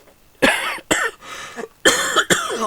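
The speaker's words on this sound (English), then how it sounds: "Sorry on the cough" A series of harsh coughs, about four bursts in two close pairs, loud and near, with brief quiet gaps between.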